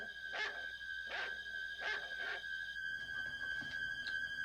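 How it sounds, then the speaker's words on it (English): A family dog barking in a home kitchen, four sharp close barks in quick succession followed by fainter yips and whimpers, with no voices over them. "Lindsay, get this dog out of the kitchen right now"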